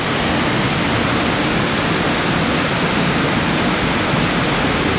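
Water roars in a constant loud broadband rush as it cascades over the stepped sabo dam at Grojongan Watu Purbo near Sleman, Yogyakarta, filling the whole stretch steadily and close by, with no voices.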